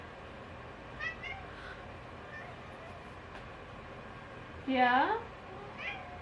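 A female cat being cat-sat in a home meows several times, faint short calls and one louder drawn-out meow near the end, with a person speaking briefly in a quiet room.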